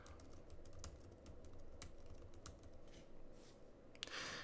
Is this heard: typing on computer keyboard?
yes